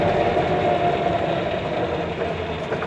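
A 1954 Willys Jeep engine runs steadily while the driver downshifts, giving a close, even mechanical drone with a rattling, knocking texture and no clear rise or fall.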